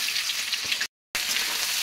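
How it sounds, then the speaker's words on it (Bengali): Rice frying in hot ghee in a pan with whole spices, bay leaves and cashews, giving a steady, close hiss and sizzle, cut off briefly by a short gap of silence. "এবার এই চালটাকে ভালো করে ভাজতে হবে, ভেজে নেব মিনিট 5।"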